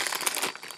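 Crinkling and crumpling of a plastic mail package as it is handled and pulled open, a dense run of close rustles that eases off midway and continues more softly.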